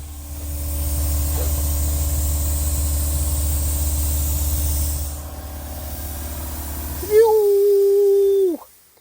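Spray gun laying base coat paint onto a drag-racing Honda Civic, a steady loud hiss with compressor rumble lasting about five seconds before fading, then a high whining tone near the end.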